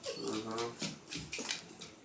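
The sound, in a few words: dogs whimpering and crying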